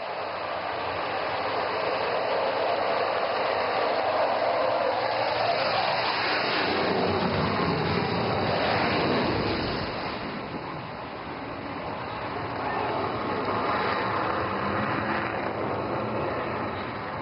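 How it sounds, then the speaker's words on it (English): A Rafale fighter jet taking off on a highway airstrip in Assam, heard as a long, steady, loud roar of engine noise that swells and holds for the whole stretch, with no voices over it. "Call sign Eklavya Rafale विमान अब उड़ान भरने के लिए तैयार है।"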